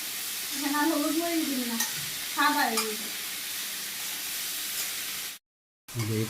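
Rice dry-fried in a pan and stirred, giving a steady scraping, rustling hiss over about five seconds, with faint tonal voices in the background, a brief dropout, then the stirring resumes.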